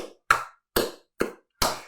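Four sharp, evenly spaced claps, close and fairly loud with silence between, performed to mimic an audience clapping along to a musical composition.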